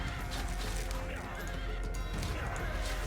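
East Asian horse archers' mounts neigh and clatter amid the dense, continuous din of a large strategy-game battle, with voices talking over the steady roar.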